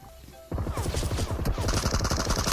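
Rapid automatic gunfire in PUBG Mobile, a dense, loud burst of rattling shots that cuts in after a brief quiet start and keeps hammering steadily to the end.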